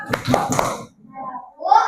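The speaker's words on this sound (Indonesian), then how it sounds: "Kasih tepuk hebat." A class of sixth-grade children does a rhythmic 'tepuk hebat' cheer clap, with a few quick sharp claps close by, followed by a pause and children's voices.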